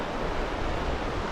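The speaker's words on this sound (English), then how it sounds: "this river's just raging today" A raging river on the East Arm of Great Slave Lake in the Northwest Territories, its rushing water forming a steady, dense roar with no breaks and no voices.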